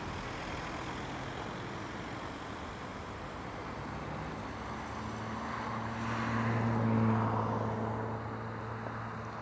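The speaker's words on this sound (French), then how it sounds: "Vous voyez que c'est une catastrophe avec toutes les voitures qui passent" Steady roadway traffic with cars passing, recorded outdoors during a panoramic shot; a continuous broadband rumble with one vehicle swelling louder and nearer around the middle before fading, no talking.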